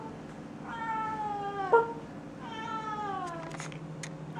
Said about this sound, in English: I never fail to show my cats.